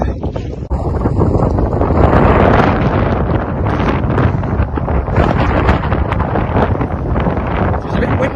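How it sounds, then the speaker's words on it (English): Strong gusting wind of about 40 mph roars and buffets the microphone throughout at an outdoor falconry flying ground, a continuous loud rushing with no clear voices. "Wind just up to 40 miles an hour today."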